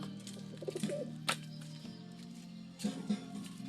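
Pigeons in a backyard loft give low, repeated cooing close by, with a couple of sharper knocks and rustles in between and no talk over them.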